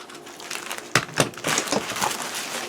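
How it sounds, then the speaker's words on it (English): Crinkly plastic bag and loose packing material rustled up close while unpacking a 1998 Trendmasters Voltron The Third Dimension action figure for repair, with sharp crackling bursts over a steady rustle. "Okay, got a plastic bag."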